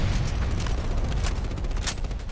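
An HK417 rifle fires blind in a video game, a dense, loud, sustained roar of rapid shots with a few sharper cracks standing out, close and without pause.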